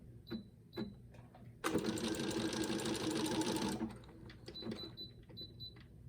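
A sewing machine stitches fabric scraps into trim in one steady, loud run of about two seconds, close up, with quieter clicks and handling noise before and after.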